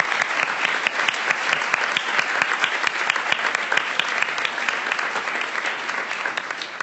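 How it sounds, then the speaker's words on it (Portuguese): An audience at a political youth panel gives dense, sustained applause, loud and continuous without a break. "uma salva de palmas para vocês que estão aqui"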